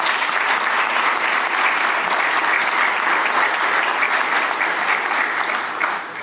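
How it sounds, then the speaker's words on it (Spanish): An audience at a university colloquium in Mexico gives a strong, steady round of applause, dense and even throughout before easing slightly at the end. "con un fuerte aplauso."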